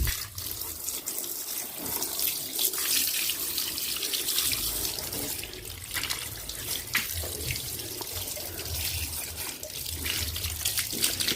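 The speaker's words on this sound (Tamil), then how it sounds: "அதுக்கு முன்னாடி தண்ணி விட்டு எல்லா இடத்தையும் ஊற வச்சிரும்" Water poured over a scooter outdoors before scrubbing, a continuous close rush and splash like a running tap that lasts the whole stretch, fairly loud and steady, with no talk.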